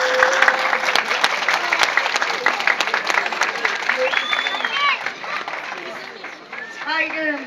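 An audience at an education commission award ceremony claps loudly and steadily for about five seconds, then the applause thins out as a voice takes over.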